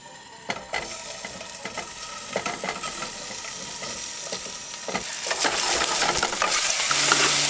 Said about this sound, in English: Start with a little olive oil. Alright, got the pan warming up. I'm going to add the sausage.